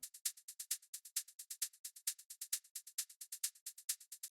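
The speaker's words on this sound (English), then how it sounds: "Now let's hop over to our next shaker loop" A bright acoustic shaker loop for a melodic house track, with Foley sounds baked in: a steady, quick run of crisp, hissy shakes in an even rhythm, some accents louder than others, dry and close with nothing else playing.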